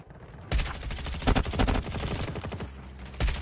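Rapid bursts of video game gunfire during a Filipino duo shooter match, loud dense volleys with sharp peaks and a final burst near the end, no talk over it.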